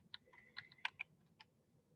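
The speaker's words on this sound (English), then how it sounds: "And so you just start typing things in here." Quiet, close keystrokes on a computer keyboard, a handful of light irregular clicks tapped in a short burst over a faint background hum.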